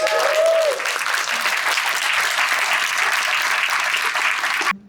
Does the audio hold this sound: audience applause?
yes